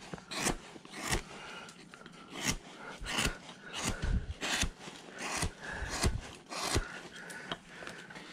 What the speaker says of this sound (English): it takes a while to get these things cut out, because you're doing them with gouges.